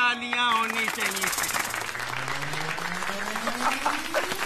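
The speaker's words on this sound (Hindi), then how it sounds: "तो इनके लिए एक बार जोरदार तालियां होनी चाहिए।" Studio audience applause rises in a Hindi TV comedy show, a moderate wash of clapping mixed with a gliding musical tone that sweeps upward.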